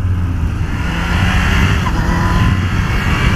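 Kawasaki H2 SX SE sport-touring motorcycle accelerating hard on the road, a sustained loud engine roar mixed with rushing wind, heard from the rider's position.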